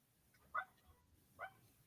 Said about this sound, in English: What a cute little bark.